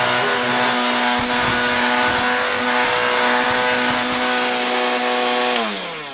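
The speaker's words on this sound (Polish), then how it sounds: "Zaraz spróbuję tutaj na stole warsztatowym te okruszki poodkurzać." Chainsaw-like buzzing motor of a 1968 Kembric car vacuum cleaner from the USA sucking crumbs off a workshop workbench, a loud steady whine that winds down at the end.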